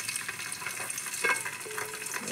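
Garlic frying in hot oil in a pan, a continuous close sizzle with light stirring scrapes and a brief sharper crackle partway through, no talk.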